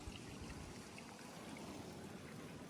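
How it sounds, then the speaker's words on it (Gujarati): Irrigation water runs steadily into a sorghum field, a continuous close rushing and trickling flow with no voices over it. "આપણે અહીંયા પાણી વાળવાનું ચાલુ જ છે."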